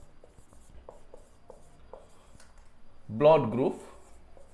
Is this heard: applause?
no